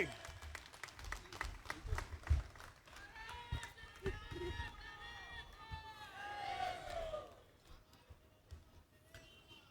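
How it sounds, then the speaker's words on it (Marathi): A crowd at an outdoor political rally applauds and cheers to welcome Sandeep Deshpande, a rising mass of clapping and shouting voices that swells mid-way, then thins toward the end. "जोरदार टाळी स्वागत करा संदीप देशपांडे"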